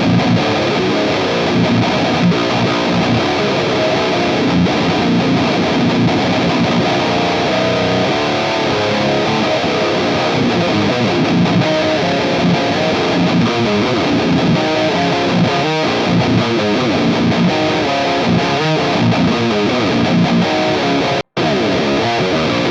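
Heavily distorted electric guitar plays chugging 2000s-style metalcore riffs through a Fractal FM3 modeler, loud and continuous for the whole stretch with no talking, then a brief cut near the end.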